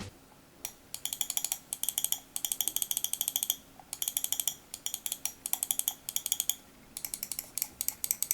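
Scroll wheel of an IPI QI Pro gaming mouse, spun in quick runs of light, evenly spaced ratcheting clicks with short pauses between bursts, close and crisp against a quiet room.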